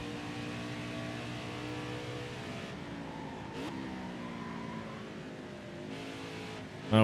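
A race truck's engine in the NASCAR Heat 5 game holds a steady, buzzing tone that dips and shifts pitch midway as the truck pulls away, and it ends with a sharp click.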